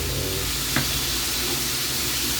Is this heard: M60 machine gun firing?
no